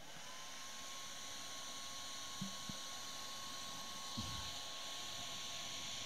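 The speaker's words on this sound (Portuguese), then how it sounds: "se o secador de cabelo da minha esposa funcionar direito" A household hair dryer blows a steady, even stream of air, used in a mathematics festival demonstration to hold up a ball. The whir is continuous and fairly faint, with a faint tonal hum running through it and no talking.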